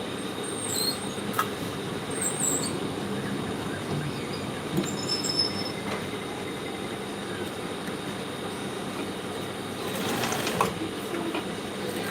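A sewing machine runs steadily while hemming a pencil skirt, a continuous close mechanical whir and rattle that holds level throughout, without talk.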